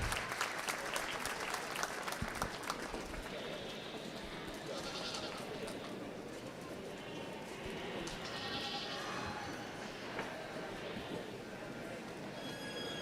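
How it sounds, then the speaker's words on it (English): Steady applause from an audience fills the arena at a youth livestock goat show and carries on for the whole stretch, with goat bleats and a murmur of voices mixed into the crowd noise. "Let's give these kiddos a big round of applause as they exit the ring."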